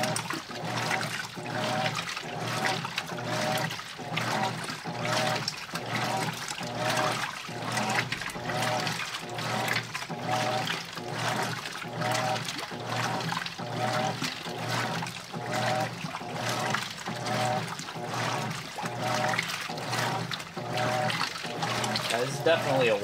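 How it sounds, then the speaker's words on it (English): A GE commercial washer, model GTW525ACP1WB, fills with water during its wash cycle. A steady rushing, pouring flow rises and falls in a regular pulse for over twenty seconds at moderate loudness. "Definitely a wash cycle, that's for sure."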